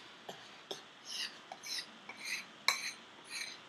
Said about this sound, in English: this will probably take you a little while to mix, but you'll see how the coconut flour works and it starts to thicken a lot